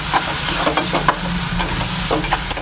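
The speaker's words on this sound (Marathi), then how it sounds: "हे वाटण वाटलेलं ते घालून घ्यायचं आहे चांगलं परतून घ्यायचं आहे" Ground masala paste being stir-fried in a pan for suran (yam) bhaji, a steady close sizzle with repeated scraping and stirring strokes, no voices.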